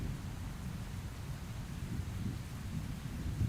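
Rain falling in the Dwarf Things video game, a steady broadband wash of rainfall with low rumbling, continuous and fairly loud, with no voices.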